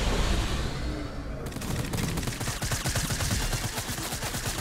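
Rapid automatic gunfire in Fortnite, near and loud, with dense bursts of shots running continuously through the round after a brief lull at the start.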